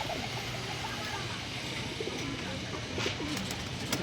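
Pigeons, including a slate-grey bird, give soft, low cooing calls that repeat steadily at close range over a faint background hiss.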